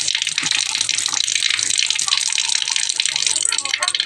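Water gushes steadily from a tap into a container, a continuous splashing hiss close to the microphone.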